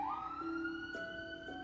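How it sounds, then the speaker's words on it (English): An ambulance siren passes by, its tones holding steady and then shifting in pitch, loud and continuous with no talking. "As the ambulance goes by,"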